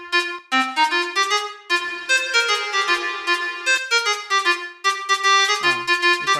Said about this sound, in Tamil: இப்போ ரிவர்ப் போட்டால் எனக்கு நல்லா கேட்குறேன்.